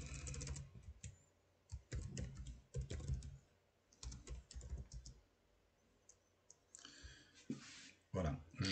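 Quiet computer mouse and keyboard clicks at a desk while editing a link on a web page, scattered single clicks and short bursts, with a person talking in French throughout.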